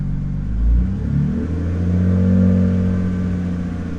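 A BMW E90 328i engine runs steadily after a fuel pump and filter replacement, with light throttle blips that swell the low hum into a couple of smooth revs before settling back to idle, close and without talk.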